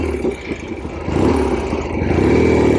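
A 1967 Norton P-11 desert racer motorcycle with an Atlas 750 engine running close by, its engine pulsing unevenly in a choppy idle before the throttle opens into a louder, steadier revving roar.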